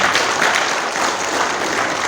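An audience at a religious gathering in a regency hall applauds in a dense, continuous burst of clapping that stays loud and even for about two seconds.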